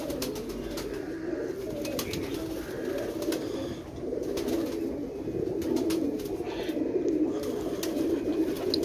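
A flock of pigeons keeps up a dense, continuous cooing with overlapping throaty burbles, close and fairly loud, broken now and then by sharp clicks and wing flutters, with no voices.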